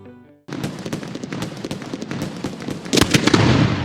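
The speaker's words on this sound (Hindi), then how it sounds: "अरे वाह, क्या धमाका था यार" A Lakshmi bomb firecracker goes off during Diwali, starting with a sudden loud bang and rolling into dense crackling bursts, with a fresh louder volley near the end.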